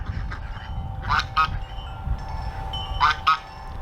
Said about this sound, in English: Here's a little goose update for you guys that were following the geese.